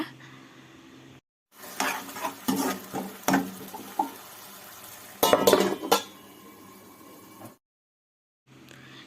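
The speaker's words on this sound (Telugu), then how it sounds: "ఆనియన్ పేస్ట్ దానిని కూడా ఈ వీటిలో యాడ్ చేసుకొని మంచిగా ఫ్రై చేసుకోవాలి పచ్చివాసన లేకుండా" Onion paste and chillies frying in a pan for a fish curry, with repeated scraping and clinking stirs over a soft sizzle, broken by two brief silences.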